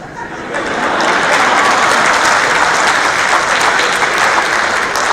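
Loud, sustained audience applause fills a comedy poetry show hall in Dubai, a dense, steady wash of clapping that swells in quickly and holds without a break.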